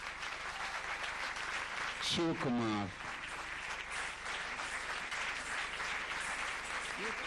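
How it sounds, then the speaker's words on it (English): An audience applauds the dance teacher at a dance debut performance, a continuous dense wash of clapping throughout, with a brief spoken voice cutting through partway. "Now you have to reserve your loudest applause for the teacher, Srimati Maya Gopalakrishnan"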